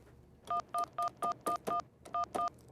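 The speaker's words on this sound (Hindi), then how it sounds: "पप्पू सिंह को फोन लगाओ, लैंडलाइन से फोन लगाओ" A landline keypad beeps through eight quick dialing tones, evenly spaced with a short pause before the last two.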